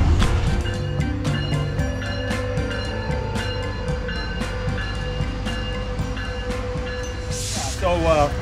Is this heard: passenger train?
yes